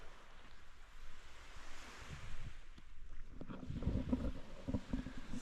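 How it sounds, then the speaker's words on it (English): Waves wash onto a long beach in Cyprus, a soft rushing surf that swells and recedes, with light wind buffeting the microphone. "This beach, Pantachou, it's quite long"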